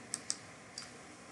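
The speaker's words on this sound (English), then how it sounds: "and I type here" Three sparse keystrokes on a computer keyboard, two quick taps followed by a softer one, close and crisp against quiet room tone.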